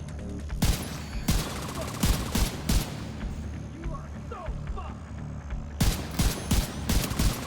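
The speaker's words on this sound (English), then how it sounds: "You've got a grenade launcher" A grenade launcher and gunfire in the shooter game The Division 2 sound as bursts of loud, sharp shots and booms that cluster into volleys. A quieter stretch in the middle is followed by renewed firing, all over a steady game background.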